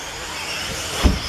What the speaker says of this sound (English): Keith, car looking a little bit edgy, hitting the SR corner.